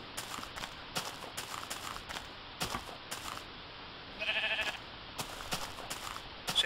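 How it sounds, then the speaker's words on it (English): Short sheep bleats from Minecraft, a brief cluster heard once alongside repeated sharp clicks and footstep-like taps from in-game movement. "Ah, there's a sheep."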